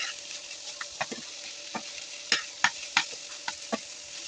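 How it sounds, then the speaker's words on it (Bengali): Noodles with spices frying in a pan, a steady close sizzle broken by irregular scraping stirs of a utensil against the pan, with no one talking. "সকল ধরনের মশলা দিয়ে নুডলস দিয়ে ভালোভাবে ভেজে নেব।"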